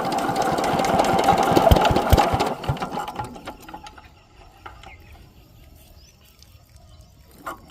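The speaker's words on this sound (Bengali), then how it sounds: "এই মেশিনটা এখন স্টার্ট করা হবে" A shallow irrigation pump engine on a rice field chatters loudly with rapid mechanical knocking and rattling, then drops to a fainter, uneven putter before a final clunk.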